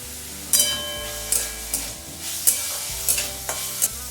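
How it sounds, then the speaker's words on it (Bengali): Vegetables being stirred in a pan for chicken soup, a spoon scraping in repeated strokes about every half second over a steady low sizzle, close and alone with no talk. "হালকা একটু নাড়াচাড়া করে নেব।"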